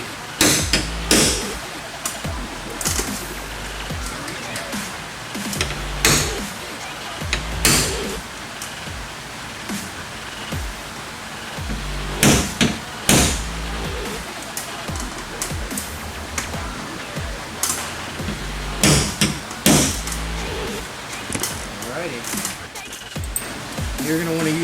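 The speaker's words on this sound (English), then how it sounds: "We're going to center punch them for drilling." Sharp metallic taps ring out at irregular intervals over a constant noisy hiss, a center punch being struck into metal on a 5th-gen Toyota 4Runner nearby to mark holes for drilling.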